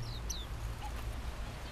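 A few short, thin chirps come from small caged birds kept outdoors: a couple of quick calls near the start and one faint peep later. They are soft over a steady low background hum, and nobody speaks.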